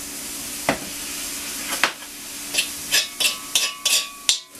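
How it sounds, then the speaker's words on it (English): General Tso's chicken sautéing in a wok over low heat, with steady sizzle broken by a series of sharp scraping and stirring clatters that quicken toward the end, close and fairly loud, with no talking. "I've been sauteing now for roughly about a minute, moving everything around"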